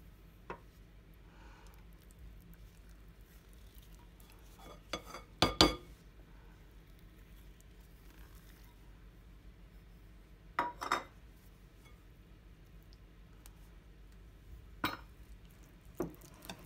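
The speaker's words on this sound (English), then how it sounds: "I'm going to add the Nutella." A spoon scoops Nutella into a bowl of brownie batter with brown sugar, giving a few soft, scattered clinks and scrapes against the bowl amid quiet stretches.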